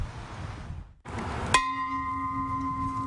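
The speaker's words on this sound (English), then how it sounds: "14 rings of the bell" A single memorial bell rung for fallen Arkansas peace officers, one clear struck tone that rings on and slowly decays after a brief hush.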